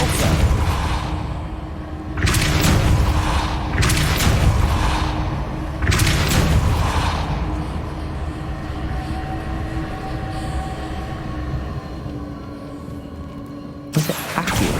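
A Depulso force spell is cast in the video game Hogwarts Legacy, producing several loud, rumbling whooshes in quick succession over a steady background drone. Quieter stretches follow before another burst at the end.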